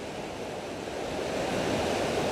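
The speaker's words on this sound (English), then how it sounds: "Look at that, first shot of the river." A river in Waterfall Country rushes in a steady, broadband roar of flowing water, close and loud, swelling slightly toward the end with no voices over it.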